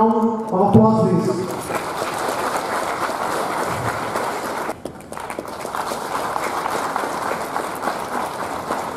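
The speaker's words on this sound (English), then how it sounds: "Can we have a round of applause, please?" An audience at a World Environment Day 2018 city event breaks into sustained applause, a steady wash of clapping that follows a brief burst of tonal sound at the start.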